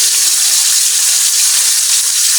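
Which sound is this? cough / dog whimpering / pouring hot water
pouring hot water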